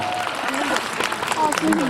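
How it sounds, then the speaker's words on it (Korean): Applause from a showcase audience after a game round, a short burst of clapping with cheers and voices rising over it, fairly close and loud. "박수 부탁드립니다"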